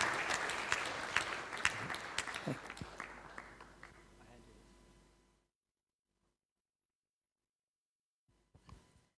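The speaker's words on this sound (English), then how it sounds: "Let's give them a nice round of applause for this wonderful service they're doing." A crowd at a Hare Krishna awards gathering applauds loudly with dense clapping that gradually fades, then silence, followed by a brief burst of sound near the end.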